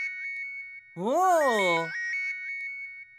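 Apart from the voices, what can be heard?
phone ringing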